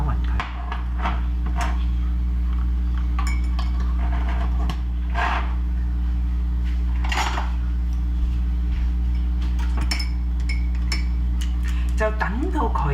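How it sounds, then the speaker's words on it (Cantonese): A spoon stirs a yeast and water mixture in a bowl for Chinese oval donut dough, making intermittent light clinks and scrapes over a steady background hum, with a voice speaking throughout. "咁啊攪勻佢。"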